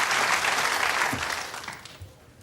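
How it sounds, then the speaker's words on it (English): Studio audience on a British chat show applauding, a dense, steady wash of clapping that holds strong before tapering off, with no one talking over it. "He gets a big round of applause from me"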